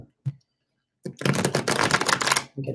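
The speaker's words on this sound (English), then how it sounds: "Shuffling the cards the wrong way." A brief tap, then a quick, dense riffle of cards being shuffled, close and crisp, ending with a short soft flutter.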